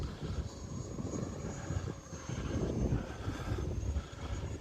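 An E-flite F-18 Blue Angels radio-controlled model jet flies outdoors on its maiden flight, its steady electric ducted-fan whine and rushing air holding continuously at moderate distance throughout, with no talk.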